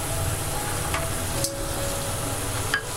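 Coriander powder is stirred into hot oil in a pan over low flame while cooking a Kerala kingfish curry, giving a steady soft sizzle with a couple of brief scraping stirs.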